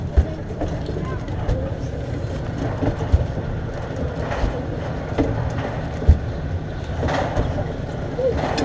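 Steady low rumble of a train rolling along rails, with faint clicks and rattles throughout and murmuring voices in the background.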